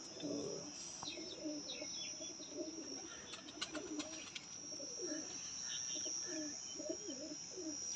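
Pigeons coo in soft repeated phrases against a quiet outdoor backdrop, with a few chirps and a thin steady insect-like whine running throughout.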